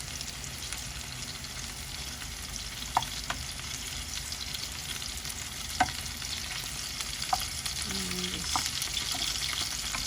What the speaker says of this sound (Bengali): সেদ্ধ হয়ে গেছে আমাদের কপি ভাজি হয়ে গেছে তেলের মধ্যে